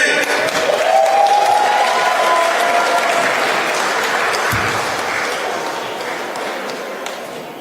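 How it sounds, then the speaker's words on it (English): A church congregation at a worship service applauds the DJ, with a loud, dense burst of clapping that slowly fades, joined by scattered cheers and a brief whistle-like tone near the start. "Let's give a clap for the DJ."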